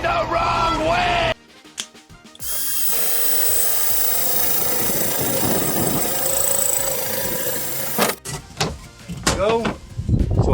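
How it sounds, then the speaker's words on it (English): A power drill boring a hole in a workpiece during a car repair, a continuous whirring grind lasting several seconds between bursts of nearby speech. "I gotta drill a hole in this."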